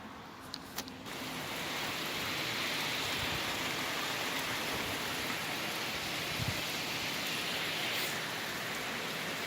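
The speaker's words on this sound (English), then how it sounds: "Still I'm not recording much just because of all the rain" Steady rain falls outside a trail shelter, a dense even hiss that rises after the first second and holds at moderate level, with a few louder drips near the start.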